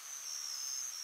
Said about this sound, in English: Why is the cicada so loud?